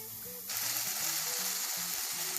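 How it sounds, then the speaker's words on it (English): Onion with green chili, garlic and ginger paste sautéing in a pan for chole, a steady close sizzle that swells suddenly as the paste hits the oil and stays alone. "Now the onion, green chili, garlic, ginger paste is all being sauteed nicely here"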